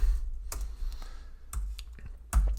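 Computer keyboard typing during a coding session, a few sharp clustered keystroke bursts close to the microphone separated by quiet pauses.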